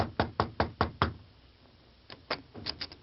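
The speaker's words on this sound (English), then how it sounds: "The Lone Ranger hesitated a moment, then knocked." Knocks on a room door in an old western radio drama: five evenly spaced raps, a pause, then another uneven group of knocks, crisp and close.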